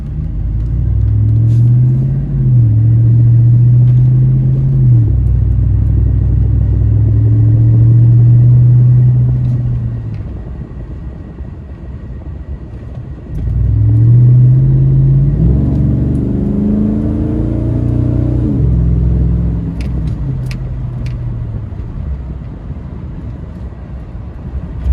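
Steady low engine drone from a Chevy Silverado with a 5.3L V8 and aftermarket exhaust, heard from inside the cab while driving down the road, swelling and easing with throttle in two long passes, no talking.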